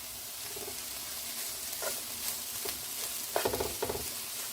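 Ground spice paste fries with bitter gourd in a pan for a Tamil-style paavakkai poriyal, giving a steady close sizzle with a few sharper crackles and stirring scrapes near the end.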